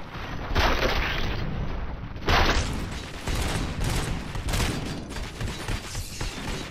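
Gunfire in RoboCop: Rogue City, with bursts of shots and heavy booming impacts that come in waves over a dense, loud battle mix.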